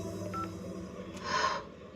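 Telephone keypad dialing tones from a phone found at a crime scene in a Hindi-dubbed South Indian film: a faint short beep, then a louder, longer tone burst, both close and clear over a low, steady background hum.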